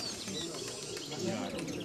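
A pigeon coos softly, faint soft calls beneath a voice speaking nearby, with a faint steady background hum.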